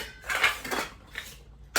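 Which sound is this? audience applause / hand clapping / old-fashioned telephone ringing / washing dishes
washing dishes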